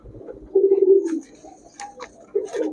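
Giribaz high-flyer pigeons in a shop give a few close, low cooing calls, one long throaty coo followed by shorter bursts, with light rustling between them.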